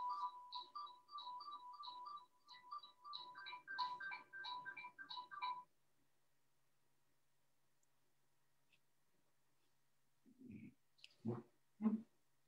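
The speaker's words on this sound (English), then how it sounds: "It's my wife's phone." A mobile phone ringtone plays a repeating, rapid chiming pattern for several seconds and then stops, heard indoors at moderate distance during a talk show, followed by a quiet pause and a few brief voice sounds.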